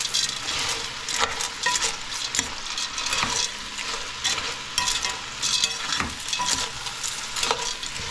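Macaroni soup ingredients are stirred in a pot before the broth goes in. A continuous close sizzling hiss is broken by repeated scraping strokes of a spoon in a fairly regular rhythm.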